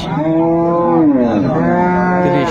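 A dairy cow or calf at the Ambari cattle market in Dinajpur lets out one long, loud, close moo lasting over two seconds, with no talk around it.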